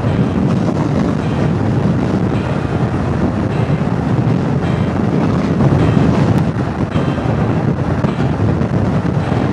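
Strong wind roars and buffets constantly against the microphone of a moving motorcycle, a dense, unbroken rushing noise with no talking.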